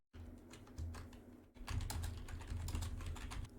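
Quick bursts of clicking keystrokes on a computer keyboard, close and fairly quiet, with a short pause before a second faster run of typing.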